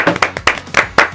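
A small group clapping for a book translation debut, a short burst of about seven sharp, close hand claps in quick, slightly uneven rhythm.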